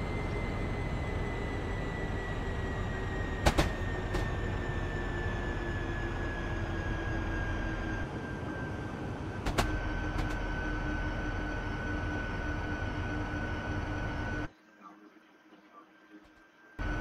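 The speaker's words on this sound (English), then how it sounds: "the commuter rail from New London to New Haven" A Shoreline East commuter train running between New Haven and New London, heard as a steady rumbling ride with a sustained tonal whine and a couple of sharp clanks, ending with a sudden drop to quiet.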